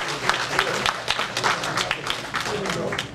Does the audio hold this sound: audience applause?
yes